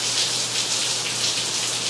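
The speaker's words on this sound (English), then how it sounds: "I'm really sorry that it's raining so hard," Heavy rain falls hard and steady, a dense continuous hiss of drops beating on surfaces nearby, with a low constant hum beneath and no voices.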